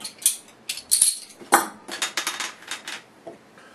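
Cap pried off a bottle of pale ale: a busy run of close metallic clicks, scrapes and clinks with one sharper snap partway through, no talking.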